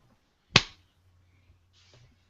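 A single crisp hand clap for syncing a podcast recording cracks out in a quiet room, followed by a low hum and a faint soft rustle.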